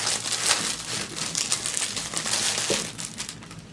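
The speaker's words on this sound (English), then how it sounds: "And it's noisy in its little bag." Crisp, steady crinkling of a small bag holding an Abstract Monochrome pouch, continuous rustling and crackling close to the ear for a few seconds, alone with no talk.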